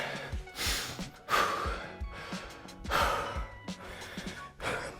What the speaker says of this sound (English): I apologize if I'm breathing super heavy in this mic